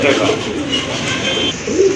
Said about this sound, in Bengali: আরেক জোড়া লক্ষা কবুতর